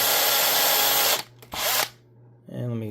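A power drill bores into a metal casting with loud sustained whine for about a second, then stops and starts again in short bursts, followed by a brief spin-down.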